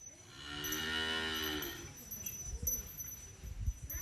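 Cattle moo at a Sri Lankan village Maattu Pongal celebration: one long, loud, close low moo, followed by scattered bumps, clinks and shuffling sounds.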